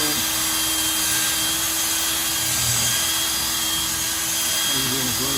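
A steady, high-pitched whine of a power drill drilling out rivets on a power cord reel of a 2006 Monaco Camelot motorhome, running continuously, with a grinding edge and a brief change in pitch near the end.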